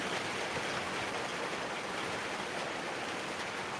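Heavy rain pours down in a steady, dense hiss with no pauses and nothing else standing out above it.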